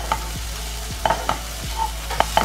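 Spinach and onion frying in a few drops of ghee on a hot tawa, a soft steady sizzle with several short scraping and stirring strokes, close and alone without speech.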